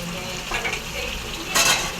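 Tomato gravy sautés in oil for an egg gravy, with a constant sizzle and a couple of scraping stirs of a spoon against the pan, the second stroke louder and sharper, heard close with no speech.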